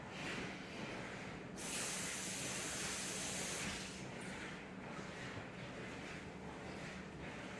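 A tomato is rinsed under a steady stream of running kitchen tap water, producing a continuous close hiss of spray that brightens partway through, with no talking.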